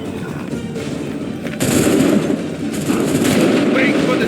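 Musket volleys in Assassin's Creed 3 crack out as dense, overlapping bursts of gunfire, swelling louder near the middle and staying heavy to the end, with battlefield commotion around them.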